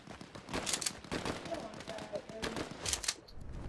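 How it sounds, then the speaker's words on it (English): Gunfire from the video game Fortnite: a series of sharp, bright shots scattered through the stretch, moderately loud, mixed with other game sounds and some soft voice activity beneath. "Somebody shooting at you?"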